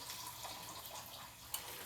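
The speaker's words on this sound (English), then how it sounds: "pouring this water off of here" Water poured off dry beans while making a quick vegan chili, a soft, continuous faint splashing and trickling for under two seconds, with no voices.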